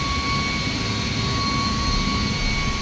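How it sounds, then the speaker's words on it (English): An Airbus A319 jet departing in a flight simulator gives a steady, fairly loud engine roar with constant high whine tones, holding even throughout with no talk. "So the 319 is departing."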